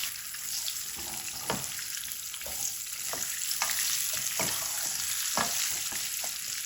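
Apple gourd (tinda) pieces sizzle steadily in hot oil over high heat, with scattered stirring and scraping clatters from a spoon in the pan.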